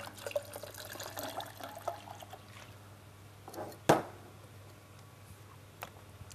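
Pineapple juice pours into a cocktail, a brief liquid trickle followed by a short louder splash, with quiet drips and room noise around it.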